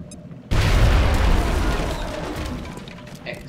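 A grenade goes off in the video game X-Com Enemy Within. After a brief quiet lead-in comes one sudden loud boom, and a long rumbling roar follows that slowly fades over several seconds.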